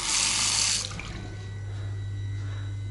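Water runs from a tap into a sink in a clean, free public toilet, a steady close hiss that is loud at first, then drops to a softer, continuous flow.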